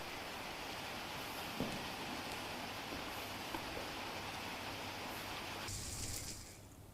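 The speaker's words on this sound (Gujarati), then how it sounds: "ધીમી ધારે વરસાદ કમોસમી વરસાદ વરસી રહ્યો છે" Light unseasonal rain falls steadily in the Vyara area of Tapi, a soft, even hiss with no voices and a couple of faint taps.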